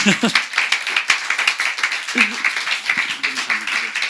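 A church congregation claps to welcome a pastor: choppy, uneven hand claps with bursts of voices speaking and calling out over the applause.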